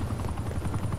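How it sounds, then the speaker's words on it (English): In the video game Black Ops 4, a helicopter's rotor thumps rapidly and evenly, close and loud, as a continuous chopping drone with no voices over it. "That helicopter's mine."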